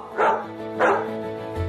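Two loud dog barks about half a second apart, close by, followed by a low hum.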